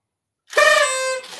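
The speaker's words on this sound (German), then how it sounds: "Muss ich tröten." A toy horn gives one sustained, bright, nasal toot, loud and close, lasting about a second and sounding alone.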